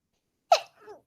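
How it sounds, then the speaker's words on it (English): A single sharp sneeze, close and sudden, followed by a softer breathy exhale in an otherwise silent room. "Hold on, I need to sneeze."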